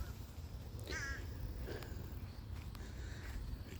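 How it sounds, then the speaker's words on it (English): A single crow's harsh caw rings out faintly at a distance over a constant low rumble of humid outdoor garden background, with a few faint clicks afterward. "Crows are already out."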